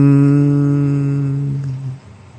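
A voice imitates a single guitar strum with a twangy, sustained 'bwong' that slowly fades out, alone with no other sounds.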